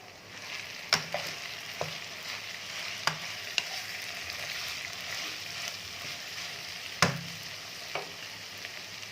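Vegetables for Chinese rice fry in a pan with a steady soft sizzle, broken by a few sharp clacks of a spoon against the metal, fairly quiet and with no talk.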